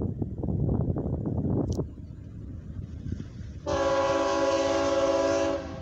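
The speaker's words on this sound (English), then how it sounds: "I can hear the roar of that CFE train." A CFE mixed freight train rumbles close by, then a loud, sustained horn blares over the steady roar of the passing cars.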